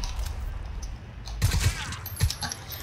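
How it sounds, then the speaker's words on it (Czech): Enemy soldiers fire RPGs at the player in a video game, heard as bursts of booming explosions and rattling impacts over a steady background rumble, loud and close, with no one talking. "tady už asi po mně střílí RPGčkama"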